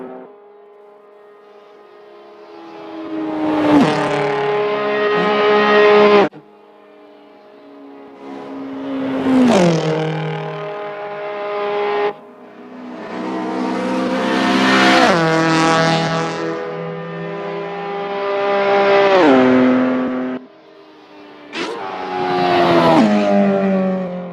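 An Abarth Tiger car's engine revs hard while driving, rising and falling in about five loud, close surges with brief drops between them and no voices.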